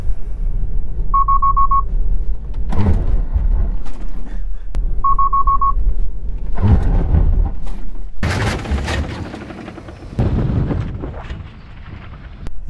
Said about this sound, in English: it gave me quite an early beep